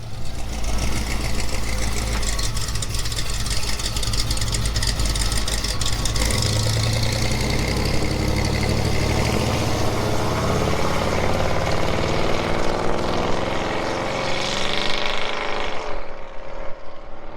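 A car engine with a Lyell aftermarket exhaust runs loud and steady close by, a deep droning rumble that rises in pitch midway, alone with no talk.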